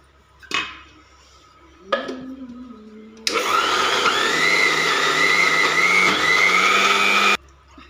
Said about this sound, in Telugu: ఇలా అయితే మిక్సీ పట్టేసుకున్నాను